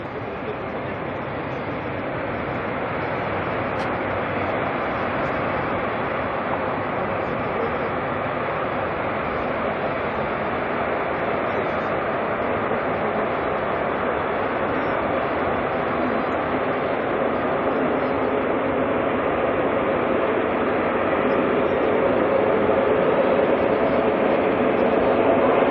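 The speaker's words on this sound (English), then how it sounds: "Bit of 777 goodness." A China Eastern Boeing 777 on flight MU745 to Buenos Aires roars at Auckland Airport at night, a dense, steady jet rumble building gradually and growing slightly louder toward the end, heard alone without talk.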